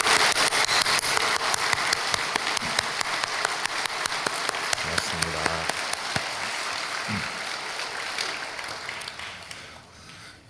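Inside a church, the congregation bursts into sustained applause, a dense wash of many hands clapping together that continues for ten seconds and thins slightly near the end, with a few faint voices mixed in.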